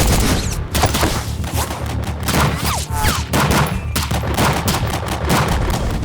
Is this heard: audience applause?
no